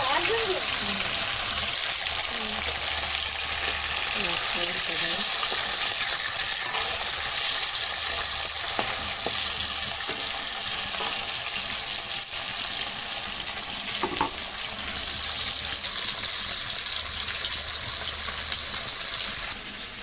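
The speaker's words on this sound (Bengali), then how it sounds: "মাছ ভাজা" Silver carp pieces fry in hot oil, a loud, continuous close-up sizzle with occasional spits and stirring, and a voice speaks briefly over it.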